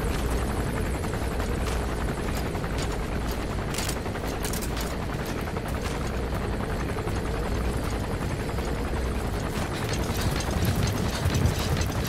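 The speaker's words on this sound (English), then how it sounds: "support helicopter requested" A support helicopter in a video game arrives with a continuous, loud rotor roar, with scattered bursts of gunfire mixed in toward the middle and end.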